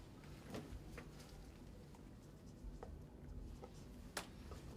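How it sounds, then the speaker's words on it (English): A pen writing down a dental color match, faint close scratching strokes in short bursts over a low steady room hum. "So then I can write it down."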